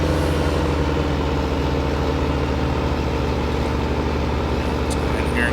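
A tractor engine in a farming video game idles steadily with a low, even rumble, close and continuous for several seconds with no change in pitch.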